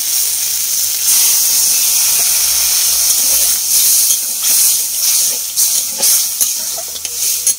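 Water poured onto hot, cooked spice paste hisses and steams loudly in the pot, a continuous close sizzle that stays strong throughout and then eases into uneven bubbling spurts.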